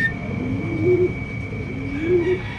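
Pigeons coo in two low rising phrases at an outdoor loft as racing birds return during a club training flight, with a steady faint tone underneath.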